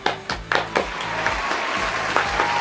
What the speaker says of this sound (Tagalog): Tayo magpalakpakan.